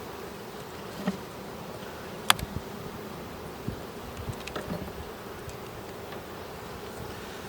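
Honeybees in a queenless hive make a continuous soft buzzing drone, close and fairly quiet, with a few faint ticks and rustles mixed in.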